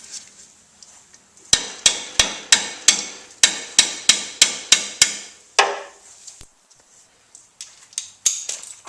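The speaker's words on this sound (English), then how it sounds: "I'm going to slip this in here and whack it with my hammer." A hammer strikes a wrench on a 3/4 inch head bolt of the pump on a Ford 841 tractor, about fifteen sharp metallic whacks in a quick, fairly even run, then a pause and a few more blows, close and loud.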